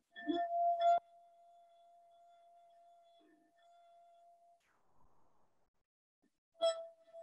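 An empty drinking glass is tapped, giving a clear ringing ping that sustains for several seconds before fading, with a second tap near the end; no one speaks.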